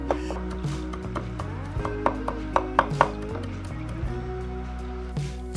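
A knife chops a bunch of fresh parsley on a board, with quick irregular taps and clicks over a steady low background hum and no talking.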